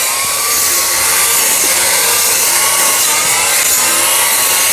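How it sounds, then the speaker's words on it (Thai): An OCBC511 cordless grass trimmer cuts grass in a mango orchard, producing a loud, steady, high motor whine that holds without a break from start to finish. "เครื่องเนี่ยมันลุยงานได้แล้วเสียงมันไม่ดังครับ"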